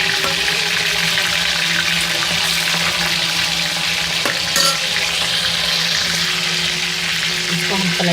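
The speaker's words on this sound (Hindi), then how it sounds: "उसमें तेल डाल के इसको चिकन को फ्राई करेंगे" Chicken pieces coated with turmeric and salt fry in hot oil, giving a steady, loud, continuous sizzle and crackle throughout with no talk over it.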